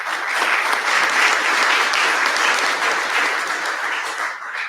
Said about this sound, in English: Can we have a round of applause for all of them